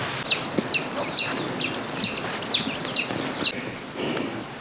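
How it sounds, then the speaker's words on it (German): Several chickens and chicks cluck and chirp in short bursts, close by on a path, with soft rustling in the background, on São Miguel in the Azores. "Mehr Hühner Mitten auf dem Weg. und kleine Hühner."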